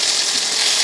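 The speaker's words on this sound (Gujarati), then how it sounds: "થોડું પાણી એડ કરીશું" Water is poured into a pan of spiced potato and stuffed bitter gourd curry to make gravy, a brief, steady, close hiss of liquid with no voices.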